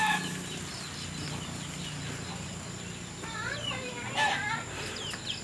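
Chickens clucking in a backyard near an avocado tree, faint and intermittent bursts over steady low background hum, with a few sharper calls toward the end.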